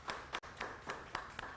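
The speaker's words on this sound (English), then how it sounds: "Please, a round of applause" Audience applause at an MTN Bright Conversations event as a winner is congratulated: a handful of crisp, evenly spaced claps at moderate loudness over a quiet room.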